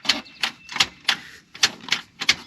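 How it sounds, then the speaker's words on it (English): A Bayou 300 4x4 ATV gear shifter clicks sharply with each shift attempt, giving a steady run of about ten crisp, close metallic clicks at a fairly even pace. "It sounds like it's clicking into every gear, but it's not."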